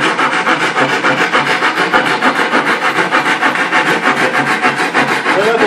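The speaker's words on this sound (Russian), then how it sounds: "Пилить очень долго приходится." An old, dull hand saw inherited from a grandfather rasps back and forth through wood in quick, even strokes, loud and close, with a continuous rhythmic scraping throughout.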